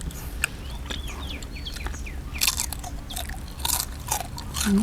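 Grilled pork intestines being chewed, giving crisp, irregular crunches and bites close to the mic, with soft scraping and faint background chatter between them.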